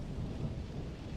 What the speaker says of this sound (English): I think it's raining a lot now.